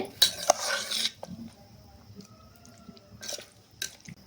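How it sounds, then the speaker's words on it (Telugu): Lemon pickle being stirred with chili powder in a bowl, giving a few short wet scraping and clinking spoon sounds separated by quiet pauses, close and moderately soft, with no talking. "కారం వేసిన తర్వాత ఈ విధంగా కలుపుకోవాలి"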